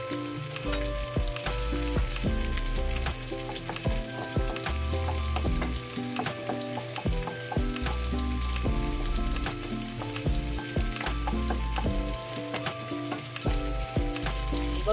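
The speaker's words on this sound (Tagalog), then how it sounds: "Nakakuha na tayo ng konting oil para iisa natin sa ating bawang." Garlic sautéing in a little oil for pork adobo, with a steady close sizzle that crackles and pops throughout and no talk.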